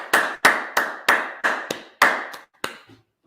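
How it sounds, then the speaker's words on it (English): A small group claps in Harlem, New York: about nine sharp, evenly spaced claps, loud and close, with no talk, ending in a quieter single clap. "Let's clap that up."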